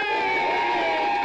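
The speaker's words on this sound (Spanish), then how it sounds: "eso que escuchan no son aplausos de mentira, son totalmente de verdad" Live studio audience applause mixed with cheering and whoops, loud and dense, filling the whole moment without a break.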